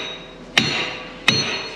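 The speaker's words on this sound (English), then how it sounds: "we'll hit the pin out" Two sharp, loud hammer blows ring out about 0.7 seconds apart as a pin is driven out of the drawbar on a Massey Ferguson 8670 tractor, each strike carrying a metallic clink over a quiet background.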